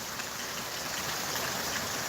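Rain falling outdoors, a steady dense hiss of water with no distinct drops standing out, even and close, with no voice.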